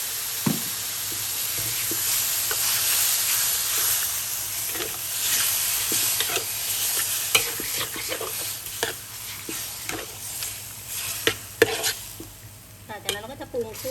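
Sliced pork belly stir-fries in a hot pan for southern Thai stink bean and shrimp paste stir-fry, a steady loud sizzle broken by repeated scraping and knocking of a spatula, with scattered clatter near the end.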